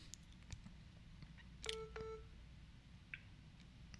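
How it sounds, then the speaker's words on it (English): Phone dialing tones during a live stream, a couple of brief close electronic beeps in quick succession followed by a faint blip, all quiet with little else around. "Let's see if I can get Kathy on the phone"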